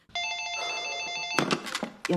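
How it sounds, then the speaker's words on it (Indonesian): A telephone rings in a dramatic scene, its high electronic trill sounding steadily for over a second before giving way to voices speaking over a lingering ring. "tiba-tiba telepon berbunyi"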